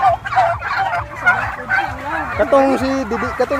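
A flock of giant hybrid turkeys gobbling close by, overlapping warbling calls repeating throughout, with a busy outdoor background.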